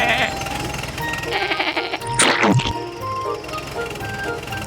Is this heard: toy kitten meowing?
no